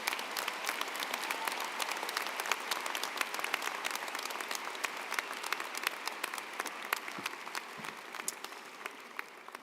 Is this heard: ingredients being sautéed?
no